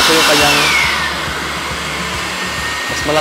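A 2B PT-EAV600 electric air blower running at maximum speed, a loud, steady, close whooshing roar of motor and rushing air throughout.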